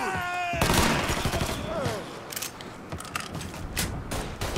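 Gunfire in the video game Mafia III, a burst of sharp shots and rattling clatter coming from several directions, loud and dense after a brief lull, with mechanical clanks mixed in.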